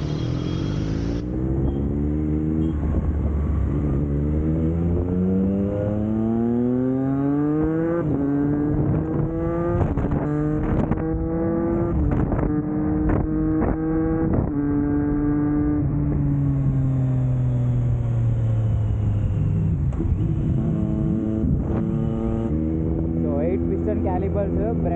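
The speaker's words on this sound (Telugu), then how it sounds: "మనం జస్ట్ ఇట్లా ఎక్సిలేటర్ అంతే హోల్డ్ చేసి షిఫ్ట్ చేసుకుంటూ వెళ్ళిపోతున్నాం" Triumph Street Triple 765RS motorcycle pulling hard through the gears with a quickshifter, its loud engine note climbing and snapping up in rapid clean shifts over and over, close and continuous throughout.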